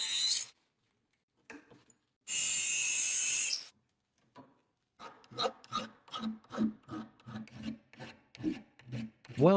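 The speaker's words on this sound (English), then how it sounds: "Filing all the edges of the jaw piece smooth." Metal rasps under a hand file as the edges of a pencil sharpener's metal jaw piece are smoothed: one long hissing pass, then a quicker series of rhythmic back-and-forth strokes.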